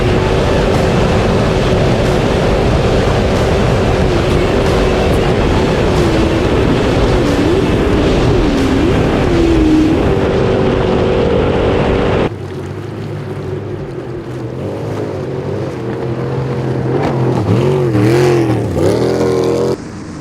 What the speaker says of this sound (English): these turbine boats are already crossing the line at just over 20 minutes